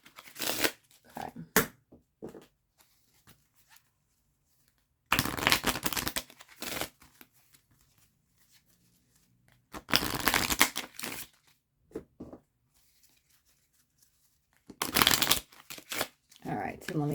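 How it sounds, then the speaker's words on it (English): Tarot card decks are riffle-shuffled in several distinct bursts spread out over time, each a crisp, close flutter, with quieter card handling and brief soft talk in between. "let's shuffle up these decks again."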